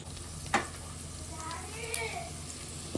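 Sliced okra frying in a pan, a soft continuous sizzle heard close up, with a brief clatter near the start and faint voices in the background.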